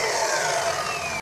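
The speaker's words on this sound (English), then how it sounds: "I'm actually gonna cut off the end right here because we don't really need all of this" A saw cuts the end off a length of PVC pipe, a steady, loud rasping burst that lasts just over a second and stops abruptly, with no talking.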